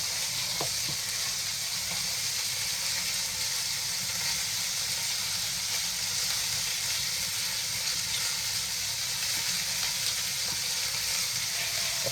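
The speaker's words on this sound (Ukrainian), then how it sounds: "воно шкварчить, як воно вже пахне." Steady, crackling sizzle of duck skin frying in hot fat for cracklings, a continuous close hiss with occasional pops throughout.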